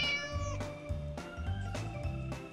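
A house cat meows repeatedly at a door to be let in, a series of drawn-out, insistent cries in steady rhythm, close and moderately loud with no talk.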